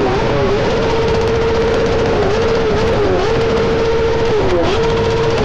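A Kawasaki Ninja sport motorcycle is held at high revs during a tyre burnout, giving a loud, sustained engine scream close by that dips briefly and climbs again several times, with no voices over it.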